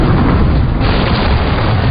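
A loud, sustained roaring blast from explosion welding, a broadband rumble that fills the whole stretch with no pause and no voices.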